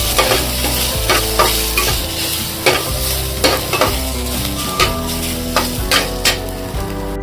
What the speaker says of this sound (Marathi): मी हा ना तळून घेते वाटण्यासाठी आपण कांदा तळतोय